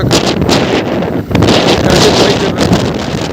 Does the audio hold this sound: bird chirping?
no